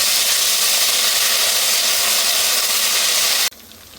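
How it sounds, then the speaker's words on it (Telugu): Ginger garlic paste fries with onions in a hot pan, a loud dense continuous sizzle that holds steady for several seconds before cutting off suddenly. "ఈ అల్లం వెల్లుల్లి పేస్ట్ కూడా పచ్చివాసన పోయే వరకు ఫ్రై చేసుకోవాలి."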